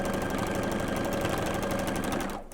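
Sewing machine stitching Santa hat quilt block pieces, a steady fast mechanical whir running continuously close by, then stopping at the end.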